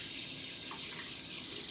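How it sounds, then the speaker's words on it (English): Hot water runs from a tap into a jar in a steady, close, hissing stream, with no voice over it. "we actually want to put hot water in this time"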